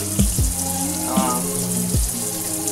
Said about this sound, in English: So take the roll, put it underneath cold temperature water.